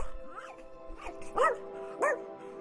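A dog in the video game Rainswept gives a few yipping, whimpery barks, about three or four spaced calls. They sound close but fairly quiet over a low background hum.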